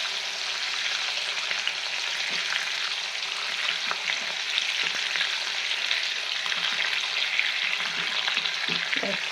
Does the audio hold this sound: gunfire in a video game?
no